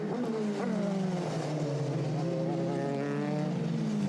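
Euroformula Open race cars in close formation at Spa-Francorchamps during qualifying, high-pitched engines rising and sweeping past, loud and close, fading slightly toward the end.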